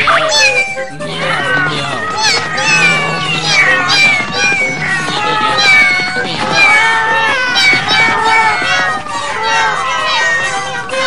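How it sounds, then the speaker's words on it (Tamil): Many cartoon cats meow at once, a dense overlapping chorus of high wavering cries that continues throughout, with voices mixed in. "என்னப்பா அது இத்தனை பூனைங்களா?"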